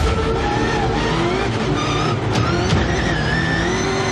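A blue Subaru rallycross race car on track, its engine loud and close with rising and falling revs, brief sharp gear changes and tyre noise across a few seconds.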